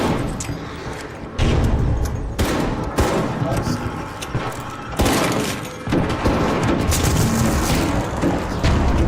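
Heavy gunfire pours into a core target in Arc Raiders, with loud sustained bursts, impacts and crashes repeating across the whole stretch and voices talking over them.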